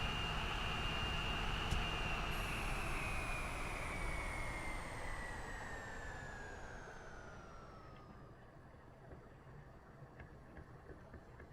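Boeing 717 jet engines at full throttle in the SimplePlanes game give a steady, loud roar with a high whine that slowly drops in pitch as it continues, alone with no voices.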